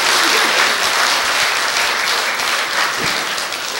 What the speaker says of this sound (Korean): 오늘 큰 기념이 되는 수상을 하신 수상자분들께 큰 박수 부탁드리겠습니다